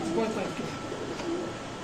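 Domestic pigeons coo softly at a pigeon farm, a couple of low murmuring calls set in a steady background of farm noise and faint voices.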